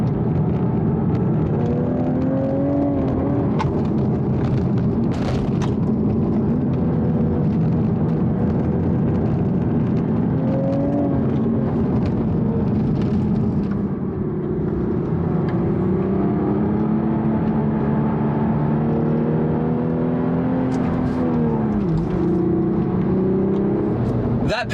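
A manual Toyota Supra drives along a winding road, its engine droning steadily with rising and falling revs through gear changes, heard from inside the cabin under a steady rush of road noise.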